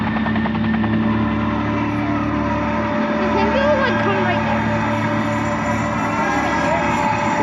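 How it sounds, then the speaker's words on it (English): A UH-1 Huey helicopter hovers at an airshow in Lethbridge, Alberta, its engine and rotor making a loud continuous drone and throbbing beat that fills the whole stretch, with crowd noise and voices blended in. "we're going to bring on the UH-1 and Huey helicopter"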